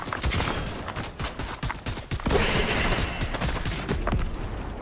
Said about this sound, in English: Love shooting rockets, bro.